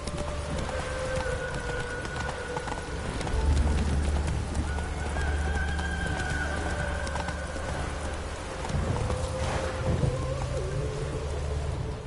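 Hooves clip-clop at a steady gallop as a horse runs in The Witcher 3, with a continuous low rumble of rain and thunder behind, all fairly loud and close throughout.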